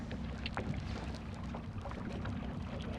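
The Pond Prowler, a small boat, runs on the water against the wind, with a steady low motor hum, water wash and wind buffeting the microphone throughout.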